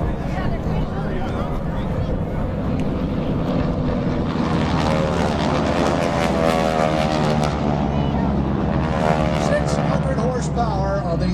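Harvard trainer with a Pratt & Whitney radial engine flying past at an air show, a loud, rough propeller drone swelling and shifting pitch as it passes, with an announcer talking over it.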